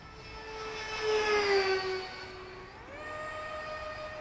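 Twin 70mm electric ducted fan F-22 Raptor model jet making a low pass, a high steady whine that swells as it nears, peaks, then drops in pitch as it moves away, with no talk.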